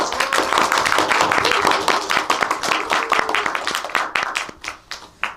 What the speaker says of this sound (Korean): 다시 한번 큰 박수로 시작을 해볼까요?